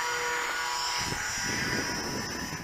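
Engine of a Jasco Spotter Bipe RC biplane on its maiden flight at open throttle, a high, buzzing whine holding steady tones, with wind rumble rising partway through.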